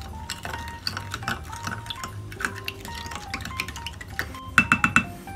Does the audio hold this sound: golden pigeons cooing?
no